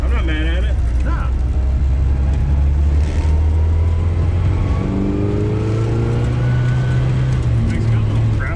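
A 1960 Austin Countryman's engine growls steadily while driving, loud and close inside the car, with people talking over it.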